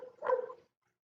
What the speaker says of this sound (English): Somebody's got a dog.